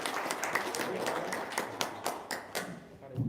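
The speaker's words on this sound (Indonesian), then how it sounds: "Tepuk tangan lagi dong." A small crowd at a horse-jumping tournament podium ceremony, Giova's Cup 2024, gives a modest round of scattered applause with distinct individual claps, fairly quiet, while a voice talks underneath.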